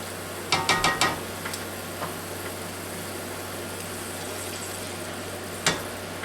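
Onions or shallots sizzling in a pan as the base of a risotto with Italian sausage and mushrooms, a low steady frying hiss with a few sharp crackles and clicks near the start and one more near the end.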